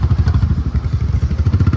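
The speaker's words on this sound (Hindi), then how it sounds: "बुलेट के भी अलग ही मजे हैं।" Royal Enfield Bullet motorcycle engine thumping close by, a steady loud rhythmic low-pitched beat with slight clatter, heard alone without talk.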